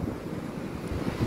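Sea waves at Ain Diab beach in Casablanca, a dangerous stretch of shore, make a steady roaring wash of surf mixed with wind buffeting the microphone.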